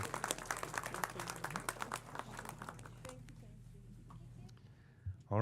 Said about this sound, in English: Let's give it one more round of applause for all the folks here today.